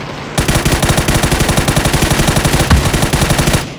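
Loud, rapid automatic gunfire in the PC version of PUBG, a steady stream of close shots running for several seconds without pause.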